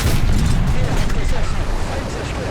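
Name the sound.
Tiger 2 P 88 mm gun firing in War Thunder video game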